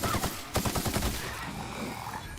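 Bursts of enemy gunfire in The Outer Worlds video game, a quick run of sharp shots around half a second then a dull distant rumble, fairly faint under game ambience.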